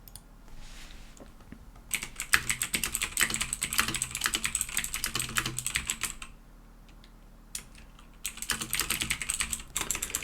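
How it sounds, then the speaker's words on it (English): Close, crisp typing on a computer keyboard in two rapid bursts with a quiet gap between, preceded by a soft shuffle, and no voices present. "Just typing a bit in the chat."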